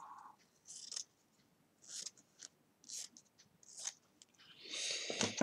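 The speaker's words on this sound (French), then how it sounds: "Prends les mauvais ciseaux." Paper being cut with scissors while making paper-scrap embellishments: a handful of short, crisp snips spaced about a second apart, close and clear, ending in a longer rustling cut, with no talking.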